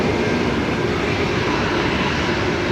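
Qantas flight 550 landing at Brisbane Airport makes a loud, steady, close engine roar with no breaks and no voices.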